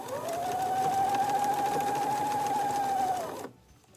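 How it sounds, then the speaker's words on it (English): A sewing machine stitches a fabric face mask with a steady, loud, close whirring hum for about three and a half seconds, then stops abruptly. "you're going to lay it underneath of your sewing machine like this, and then it's going to kind of curve up as you sew it"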